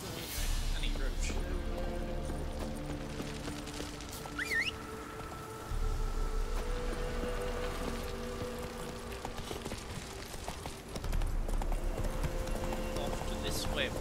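Roach, a horse in The Witcher 3, gallops with steady clip-clop hoofbeats that come and go across the scene, alongside game music and voices talking, with a brief whinny.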